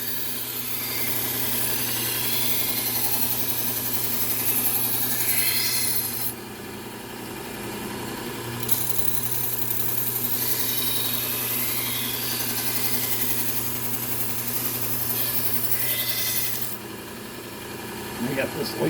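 Steady close rasping of a kitchen knife edge being refined on a sharpener, continuous rubbing strokes over a low constant hum, with no talking.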